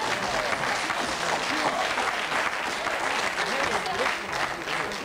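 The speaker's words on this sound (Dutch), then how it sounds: "ons applaus gaat terecht uit naar Hans van Eyck" Studio audience applause on a 1987 Dutch TV quiz show, a loud, dense burst of clapping from many hands sustained for several seconds, with a voice talking faintly underneath.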